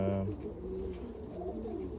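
Racing pigeons at dusk give a brief, soft, low coo near the start, followed by a muffled rustle of nearby birds.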